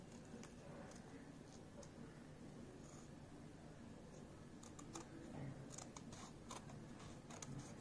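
Scissors snip paper along a drawn line during a primary-class paper cutting lesson, giving short crisp clicks and snips, some clustered, heard fairly close over a steady noisy room background.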